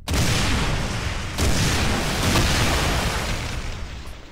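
A loud, sustained roaring rocket blast from a failed rocket jump in Brutal Doom fills the whole stretch, swelling again midway with dense rumbling debris before slowly tapering off.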